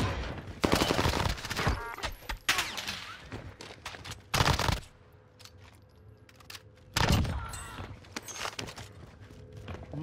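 Gunfire in Call of Duty Warzone on Rebirth Island comes as several loud bursts of rapid shots separated by quieter stretches of footsteps and ambient game noise.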